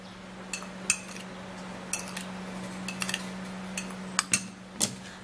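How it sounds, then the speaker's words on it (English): A spoon stirs about a tablespoon of mixture in a bowl, making sparse, light metallic clinks and taps in short bursts over a quiet room hum. "you give it a stir"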